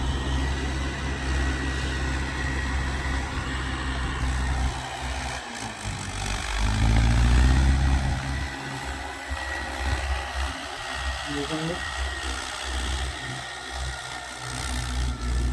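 Tractors plough a paddy field, their diesel engines droning steadily at close range with a swell in rumble midway as one works nearby.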